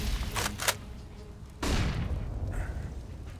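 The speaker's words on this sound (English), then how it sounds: "Early grenades being exchanged over at long, but nothing much comes of it." Grenades detonating during a professional CS:GO match: a couple of sharp blasts early on, then a heavier boom with a rumbling tail, heard under a commentator's voice.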